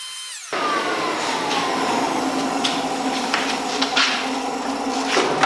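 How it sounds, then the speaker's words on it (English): A loud, steady leaf blower roars on abruptly after a brief quieter moment, blowing debris out of an engine, a continuous high-pitched rushing whine with small rattles and clicks. "I could use this leaf blower to clean the debris out of the engine"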